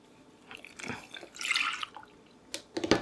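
Milk poured into instant pudding mix, a few close splashy liquid bursts and drips in short uneven spurts rather than a steady stream.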